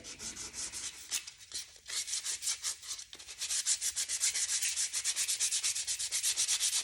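Steady back-and-forth rasping of sandpaper on wood, close and rhythmic, with strokes growing faster and more regular toward the end.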